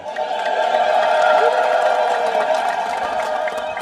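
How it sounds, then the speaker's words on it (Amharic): A church congregation at an Ethiopian Orthodox feast day applauds and cheers, a dense, loud, steady wash of crowd noise holding for several seconds before easing slightly at the end. "ምእመናን እንደ አጨብጭቡ፣ አይዟቸው።"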